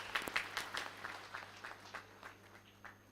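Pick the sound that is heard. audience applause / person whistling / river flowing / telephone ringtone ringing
audience applause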